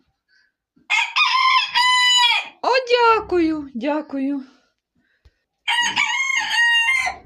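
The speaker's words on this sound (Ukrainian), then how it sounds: "От півні. Що, не співаєш більше, ні?" A rooster crows loudly and close by, twice, with a person speaking briefly between the crows.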